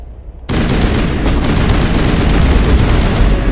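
Sudden onset of rocket blasts and rapid gunfire in Mass Effect Legendary Edition, loud and sustained combat noise with dense crackling shots over a booming low end, no talking.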